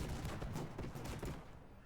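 The Suspendium Disruptor fires in the airship battle game Airships: Conquer the Skies, a quiet, rapid rattle of gunfire-like bursts that fades out over a couple of seconds.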